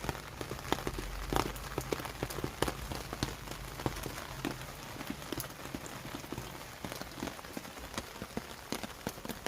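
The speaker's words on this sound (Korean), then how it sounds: "지금 이렇게 비, 비가 내릴 때 빗물을 맞추는 이유는" Rain falls on a potted lemon tree, making steady close patter with scattered sharper drips landing on leaves and the pot, continuous throughout.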